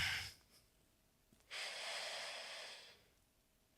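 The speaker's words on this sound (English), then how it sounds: "I'm going to exhale, fold forward." A single long, airy exhale while folding forward in a breathwork movement session, close and quiet, preceded by a short breath and a couple of faint clicks.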